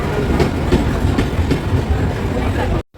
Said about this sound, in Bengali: ট্রেনও ঢুকে গেছে আমাদের আর এখন আমরা ট্রেনে উঠে যাব হচ্ছে বনগাঁ